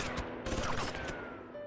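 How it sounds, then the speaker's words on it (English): Rapid gunfire from the Hello Lady! video game rattles in a dense, continuous burst, loud and close, filling the whole short stretch with no voices. "Gunfire was approaching us."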